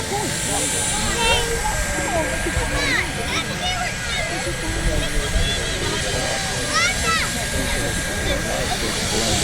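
A turbine-powered RC helicopter flies outdoors, giving a steady loud jet whine and rotor roar with rising and falling whistling tones, while people talk in the background.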